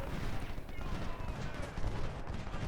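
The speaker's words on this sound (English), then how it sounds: "I should just let my artillery fire." Continuous rumbling volleys of Civil War artillery and musket fire on a battlefield in Ultimate General: Civil War, dense and overlapping, moderately loud throughout with no talking.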